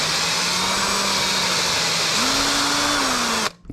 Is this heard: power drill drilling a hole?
yes